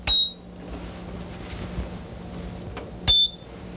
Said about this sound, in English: at which time you will hear a distinct single beep.